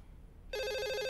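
Phone ringing in a horror video game set on a night shift: after half a second of near silence, a bright electronic trilling ring starts abruptly and continues steadily, fairly close and alone.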